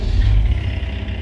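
A vehicle engine in Gold Rush: The Game starts up and runs with a loud, low rumbling drone, close and alone for about a second.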